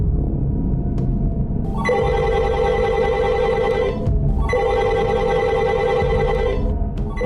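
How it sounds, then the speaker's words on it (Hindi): Telephone bells ring in the district magistrate's office in Maharajganj, Uttar Pradesh, in two long sustained bursts over a constant low rumble of background noise, with no talking. "महाराजगंज के डीएम ऑफिस में फोन की घंटियां लगातार बज रही थीं।"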